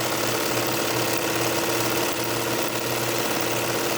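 Sewing machine free-motion quilting a swirly stitch on a scrappy appliqué, heard as a loud, continuous mechanical whir with a rapid rhythmic needle chatter that pulses slightly in speed, close up and with no voices.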